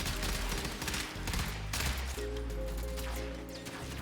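Warframe's Cyngas, an old arc gun, firing in sustained rapid bursts, dense crackling fire layered over low humming tones and game ambience, steady and close throughout.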